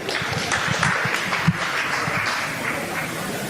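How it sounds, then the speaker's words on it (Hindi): Audience applause in a hall during a question-and-answer event, a steady wash of many hands clapping at moderate volume with one sharper clap standing out, continuing throughout. "तो उनको नमन करते हुए जोरदार तालियां एक बार भाई।"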